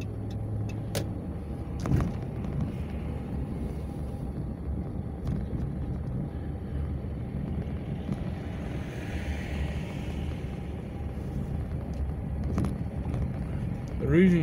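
Trucks rumble and roll past at the Atlanta Farmers Market amid produce company buildings, a continuous low engine drone with passing swells and wind buffeting, heard nearby with no talking.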